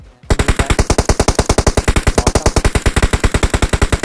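Rapid automatic gunfire from the video game PUBG Mobile rattles out in a loud, evenly spaced burst of rounds lasting several seconds, with no talking over it.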